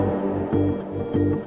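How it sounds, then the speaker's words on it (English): A brass sample from the Kashmir sample pack, used in producing a track, plays two sustained swelling stabs with rich low harmonics, loud and close with no voices over it. "you had that brass sample again from the Kashmir pack"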